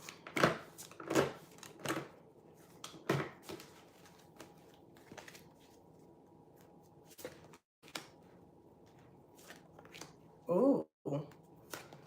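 Tarot cards are shuffled in scattered bursts of riffling and slapping, fairly close and soft, with quiet stretches between and a brief voice exclaiming partway through.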